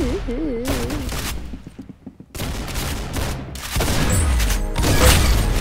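Rapid bursts of gunfire from an online shooter game, loud and close, with a brief lull in the middle and a rising electronic whistle near the start.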